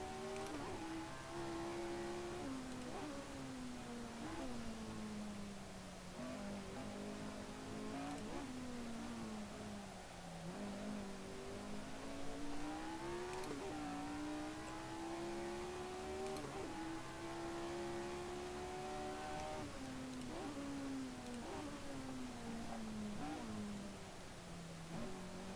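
A Lotus 49 race car at the Nurburgring GP in the SRS sim racing game screams steadily through its gears, the engine note rising and dipping with each upshift and lift, loud and close throughout.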